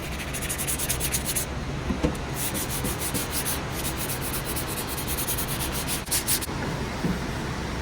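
Steady, continuous sanding of a wooden stool top by hand, a close, even rubbing hiss that runs without pause and with no voices.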